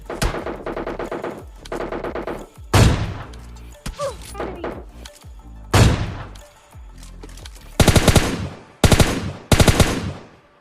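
Gunfire bursts in the mobile battle-royale game PUBG Mobile Lite: several loud, sharp volleys of rapid automatic shots with pauses between them, plus a few single heavy reports, some thuds and other game sounds in the gaps.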